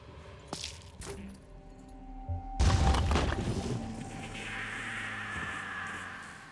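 A grenade explodes against an enemy in the game Terror from the Void: a deep, heavy boom partway through, following a few light clicks and tones, then a noisy rumbling decay.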